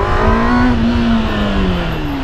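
Yamaha XJ6 motorcycle engine revving while riding, a loud close whine whose pitch climbs and then gradually falls over a couple of seconds.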